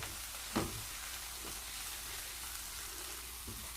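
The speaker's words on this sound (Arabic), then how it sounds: "هنشوح برده ثوم كده مع البصله، وبعدين ننزل بالفلفل." Garlic and onion sautéing in a pan give a steady, soft sizzle with a few dull stirring knocks near the start and again toward the end, with no talking.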